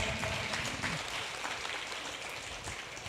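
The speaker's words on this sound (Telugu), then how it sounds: "క్లాప్స్." Steady applause from an audience fills the whole moment, a dense crackle of many hands clapping without pause.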